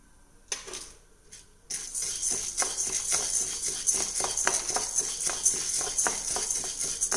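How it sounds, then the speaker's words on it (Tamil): Urad dal poured into a pan and dry-roasted with toor dal gives a quiet pause, then a steady bright rattle and clatter of grains scraped and stirred against the metal, with frequent small clicks. "நான் உளுத்தம்பருப்பு சேர்த்துறேன்."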